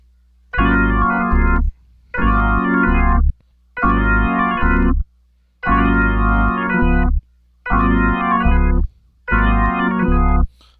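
Hammond organ on the top manual with percussion set to normal and fast, giving a churchy drawbar tone, six punchy sustained chords separated by brief silences, loud and full.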